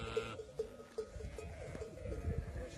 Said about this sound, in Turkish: Kaç koyun var şimdi burada nasip olsa?